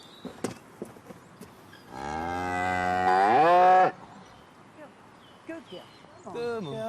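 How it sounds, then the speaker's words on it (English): A dairy cow in a clean milking stall lets out one long, loud moo that rises in pitch, with quieter shuffling and clatter before and after and voices nearby. "We'll get up and milk this cow."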